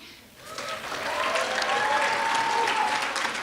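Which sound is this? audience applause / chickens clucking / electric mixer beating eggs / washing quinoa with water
audience applause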